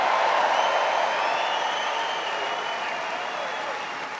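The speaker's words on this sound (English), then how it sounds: "Give them all a big round of applause," Crowd applause at an outdoor political rally in Elkhart, Indiana, a broad continuous wash of clapping and cheering that stays loud and steady, slowly easing off.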